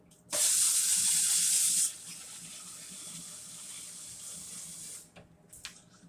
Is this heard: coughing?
no